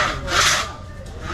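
A big hand saw cuts through a large wooden log in an African village, giving one loud rasping stroke followed by quieter scraping.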